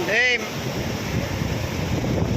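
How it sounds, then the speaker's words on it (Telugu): Large sea waves wash and rumble in a continuous broad roar, mixed with wind buffeting the microphone; a brief voice sounds at the very start. "పెద్ద పెద్ద అలలు వచ్చాయండి"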